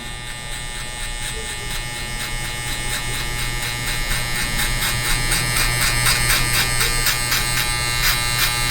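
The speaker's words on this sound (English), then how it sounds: "These are the new Gamma Shorty clippers" Gamma Shorty hair clippers buzz loudly and steadily while cutting hair close up, a continuous electric drone with a rapid pulsing texture and no talking.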